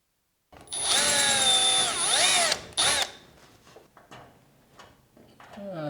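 A power drill bores a hole for a garage door opener bolt on a new garage door, its loud, close whine rising and dipping in speed for about two and a half seconds before quieter handling noises.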